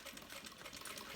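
Close, continuous whir of a sewing machine running a short backstitch on a fabric cell phone bag, an even mechanical hum throughout.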